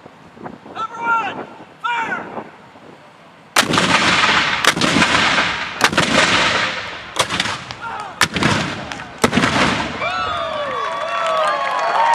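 Cannon artillery firing at night during the Fort Macon battle anniversary: after a quiet stretch with distant voices, six sharp, heavy booms ring out at irregular intervals over constant wind noise, each blast trailing off.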